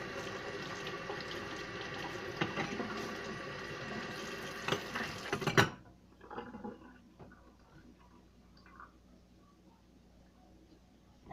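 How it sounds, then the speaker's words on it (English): Tap water running into a sink while hands are quickly washed, a steady splashing rush for about five and a half seconds that stops abruptly, leaving a quiet room with faint handling noises. "I just washed off my hands really fast, and I dried them really good"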